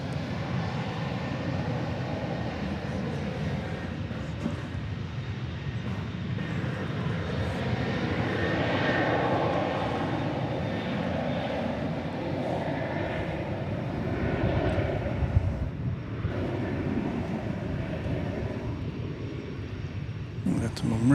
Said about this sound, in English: Entering our view is Flight 2926. This is going to Los Cabos in Mexico. It's a 737-800.